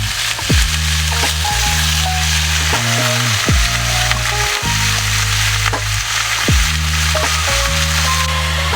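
Meat browning in a pot for Guyanese pepperpot gives a loud, constant sizzle and hiss, while stirring adds periodic scrapes and knocks against the pot, heard close with no voices.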